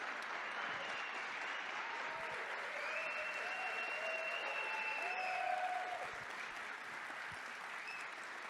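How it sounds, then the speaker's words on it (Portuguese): Sustained, dense applause from a lecture audience welcoming a speaker, steady and fairly loud for the full stretch, with a faint murmur of voices beneath the clapping. "uma salva de aplausos"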